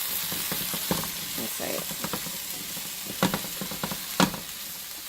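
Carrots, onions and celery sauteing in a pan, a steady close sizzle broken by scraping stirring strokes, with a brief spoken remark in the middle.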